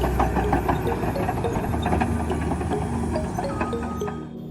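Toy bulldozer engine noise, a buzzy rattling mechanical drone with rapid irregular clicking and some chiming electronic tones, steady and close throughout.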